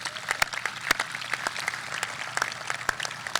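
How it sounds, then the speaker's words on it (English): Applause from a graduating high school class and audience, a scattered crisp clapping with distinct individual claps standing out, moderately distant. "Please give yourselves a round of applause."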